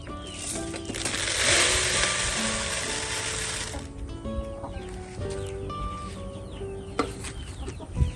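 Chickens cluck repeatedly while pecking at eggshell breeder pellet feed, with a steady stream of nearby clucks and a burst of rustling noise early on.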